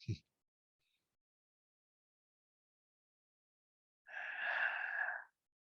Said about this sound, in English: softly constrict the back of your throat to make a hissing or ocean type sound with your exhale